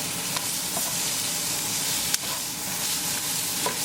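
Tindora (scarlet gourd) being stirred into a paneer sabzi in a hot pan, a continuous close sizzle with occasional clacks of the spoon against the pan, no voices.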